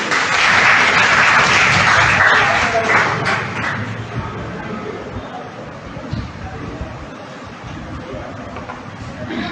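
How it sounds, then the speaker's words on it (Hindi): Audience applause welcoming a speaker to the stage at a Premchand Jayanti event with students, a loud dense burst of clapping that gradually thins and softens, leaving a murmuring crowd. "तो जोरदार तालियों के साथ स्वागत करें।"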